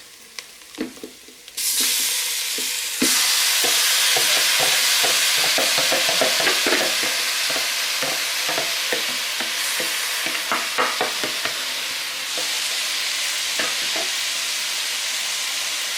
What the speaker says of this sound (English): Now I'm gonna add our mixture, the mutton and all the masalas.